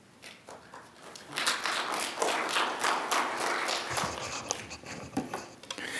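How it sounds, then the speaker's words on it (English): An audience at a housing training session claps to welcome a deputy director being introduced, moderate applause building after a quiet start and carrying on fairly evenly, somewhat distant in a large room. "It's always great to start the day off with applause."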